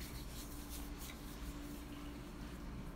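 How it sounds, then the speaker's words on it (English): Hands rub cuticle oil into the nails, giving a faint, continuous soft rasp of skin on skin. "If you can hear my hands rubbing in the background, I'm just rubbing in the cuticle oil"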